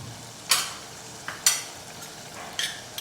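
Green ridge gourd and colocasia leaf curry being stirred in a pan, with three soft scraping strokes spaced about a second apart over a quiet background.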